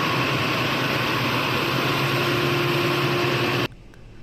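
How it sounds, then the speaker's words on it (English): Embraer E2 jet engine spooling up and warming after start, a loud steady whine and rumble with a faint rising tone that cuts off abruptly near the end, with no voices. "This is just to warm up the engine so everything is same temperature."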